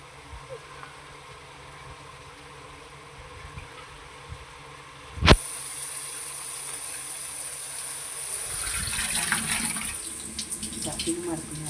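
Water runs from a tap into a vessel of rice being soaked for chicken biryani, a steady splashing stream that starts suddenly with a sharp clunk and continues faintly over low background hum.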